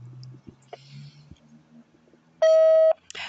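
A voicemail recording plays a single steady electronic beep tone lasting about half a second, loud and clear after a few faint, muffled clicks and quiet murmurs.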